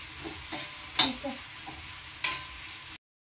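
Onion frying in a pan for crab masala sizzles quietly while a spoon stirs it in a few sharp scraping strokes, close up and without talk.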